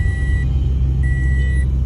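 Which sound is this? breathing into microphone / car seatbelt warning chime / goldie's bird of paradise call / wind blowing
car seatbelt warning chime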